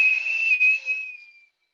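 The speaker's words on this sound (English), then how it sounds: "You can tell it's got a good feel when it does that whistle." A steady high whistle from a vacuum cleaner drawing air through a card-making mold press, holding a single clear tone with a brief dip midway before fading out to silence.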